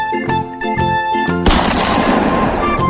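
Toy pistol firing in a run of sharp, loud electronic shots with a musical tone, several quick bursts then a longer noisy blast, all close and alone with no talk.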